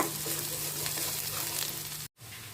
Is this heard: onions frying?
yes